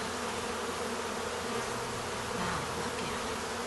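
A honey bee swarm arrives at a beehive, filling the air with a dense, steady, loud buzzing drone of many bees close by, with no talk.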